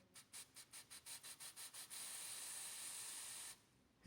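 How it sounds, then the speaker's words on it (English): Hand spray bottle misting dry Cattleya orchid seedling roots: a rapid series of about ten short hissing squirts, then one continuous spray lasting over a second, close and soft with no talking. "I'll just spray until the roots turn green"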